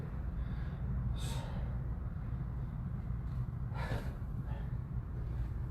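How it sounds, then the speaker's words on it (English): Heavy, ragged breathing after a set of lunges in a workout, steady and close with a couple of sharper gasping breaths standing out over a low continuous background rumble. "You can see I'm breathing pretty heavy here."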